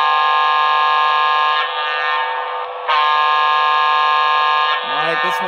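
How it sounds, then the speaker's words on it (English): A model train sound decoder sounds its locomotive horn in sustained, steady multi-tone blasts with brief breaks between them, loud and close, lasting nearly the whole stretch before a short rising tone at the end. "Here is the horn."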